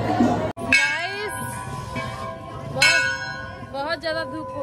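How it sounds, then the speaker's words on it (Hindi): Temple bell at Jwala Mukhi shrine in Shaktinagar, Sonbhadra, Uttar Pradesh, struck several times with bright ringing tones and long metallic decay, close and loud, while people talk nearby. "घंटा बज"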